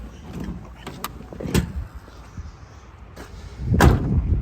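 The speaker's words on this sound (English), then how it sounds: "doors shut easy." A 1968 Chevrolet Camaro SS convertible door swings shut with a few solid thuds spaced across the moment, close by and fairly loud over low background noise.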